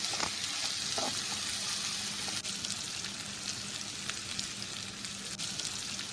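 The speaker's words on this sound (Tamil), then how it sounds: "வெங்காயம் தக்காளி நல்லா வதங்கிருச்சு." Chopped onion and tomato sautéing in a pan for an egg masala, giving a steady, continuous sizzle and fry close by, with occasional clicks of stirring and no talking.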